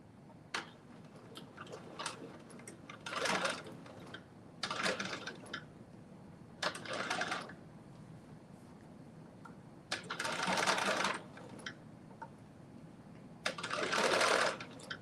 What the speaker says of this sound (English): And it's just sewing on there